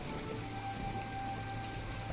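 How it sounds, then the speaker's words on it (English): Steady rain falls in a farming and crafting video game, a soft continuous hiss of drops on surfaces with a faint tonal hum underneath and no talking. "oh, it's raining"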